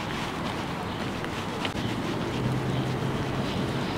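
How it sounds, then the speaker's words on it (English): Steady wind buffeting outdoors on a rainy, cloudy day in Maribor, Slovenia, a continuous low rumbling roar with microphone wind noise and no talking throughout. "It's raining and cloudy and at the same time a little bit windy as well."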